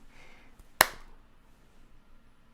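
One sharp, loud hand clap rings out close by against a quiet background, followed by faint low room noise.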